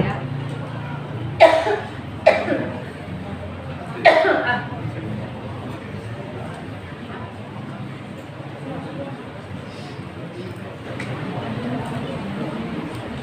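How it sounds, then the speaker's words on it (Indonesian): A person coughs during an indoor talk: three sharp, close coughs in the first few seconds, then a fainter one later, over quiet room murmur with some voices. "Masih batuk ya."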